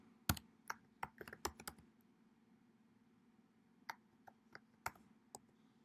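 Credentials typed on a Mac computer keyboard: a quick burst of sharp, close key clicks, then a pause and a second shorter run of taps, with no talking.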